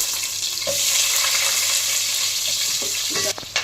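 Sliced onions frying in hot oil with whole garam masala for chicken fry piece biryani, a loud, close, continuous sizzle with occasional stirring knocks against the pan near the end.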